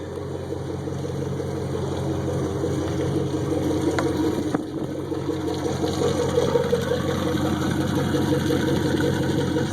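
A 2003 Malibu Response wakeboard boat idles steadily out back, its exhaust giving a continuous low, burbling rumble with water sloshing close by, loud and even throughout with no talking.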